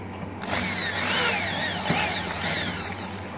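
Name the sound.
power drill drilling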